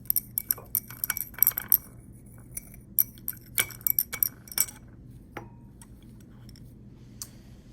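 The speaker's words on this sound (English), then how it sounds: "And I'll just stir." Glass rod stirring a solid into solution in lab glassware, a string of light, irregular clinks and taps against the glass, quiet and close, fading out near the end.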